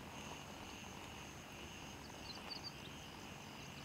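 An enemy helicopter in the video game Gray Zone Warfare recedes into the distance, a faint, steady rotor and engine drone without speech.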